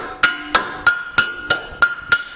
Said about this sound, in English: Put something soft behind the rotor and hit it with a hammer.